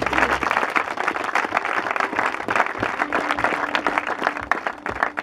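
A church congregation claps and cheers to acclaim the Lord during a French-language sermon, a dense, steady wave of applause that rises at once and carries on loudly throughout.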